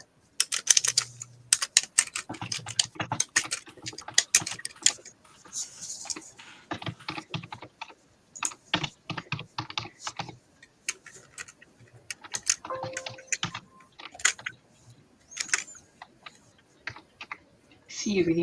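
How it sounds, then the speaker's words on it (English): Period typewriter typing in the video game Grimgame: Dust Adventures, a rapid, irregular stream of crisp key strikes in close bursts with brief pauses, carrying on throughout. "See, you can even hear the period sounds of a typewriter. A combat typewriter."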